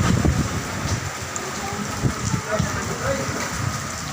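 Steady typhoon rain patters and hisses on surfaces during flooding, a dense wash of drops with some low rumbling underneath.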